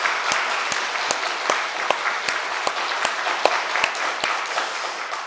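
A church congregation applauds together during a worship service: steady, dense clapping from many hands fills the clip evenly, with some sharper individual claps standing out and no talking.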